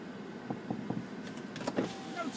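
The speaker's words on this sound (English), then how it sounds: "Shut down and roll your windows down for me." Electric power windows on an off-road vehicle rolling down with the engine shut off, a faint steady motor whir under a few soft clicks and thumps, fairly quiet and close.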